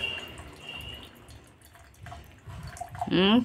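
Water is poured into a glass, with soft intermittent drips early on, then a short, close pour near the end whose tone rises as the glass fills.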